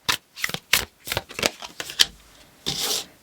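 Tarot cards are shuffled close up in a quick run of riffling bursts with brief pauses between them, ending in a longer, softer shuffle.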